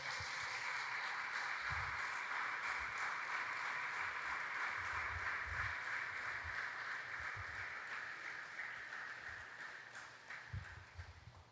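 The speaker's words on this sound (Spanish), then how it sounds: "Dale un aplauso al Señor, por favor." Church congregation at a Sunday service claps together in a sustained, dense round of applause that stays strong and slowly tapers toward the end, with a few low thumps scattered underneath.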